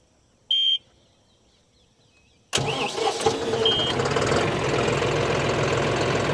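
A John Deere 5405 CRDi tractor sits quiet apart from a short beep, then its diesel cranks and catches abruptly and settles into a loud, steady, rattling idle close by.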